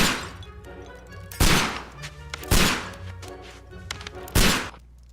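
Three loud, sharp gunshots fired indoors by Holmes in the Sherlock Holmes game Case of the Sailor, spaced about a second apart, with quieter thumps and room noise between them and no speech.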